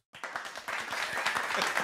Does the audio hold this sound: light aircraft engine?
no